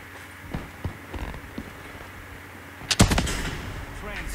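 Gunfire from a weapon in Call of Duty Black Ops 3 Gun Game mode: a few scattered single shots, then a louder burst of fire near the end, set over game ambience.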